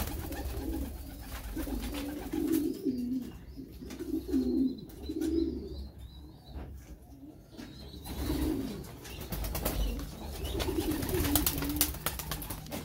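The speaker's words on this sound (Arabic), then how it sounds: "الحميمات هما جاو" Pigeons coo near a rooftop loft, a run of soft, low, rolling coos repeating in bursts over a steady outdoor background hiss, with no one talking.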